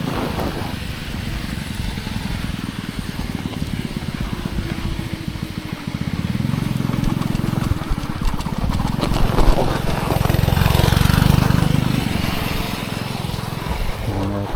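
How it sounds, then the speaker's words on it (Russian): A moped engine buzzes past on a snowy winter road near a car factory, a droning motor that swells louder in the middle and end over steady wind and traffic rumble. "Оказывается, мопед."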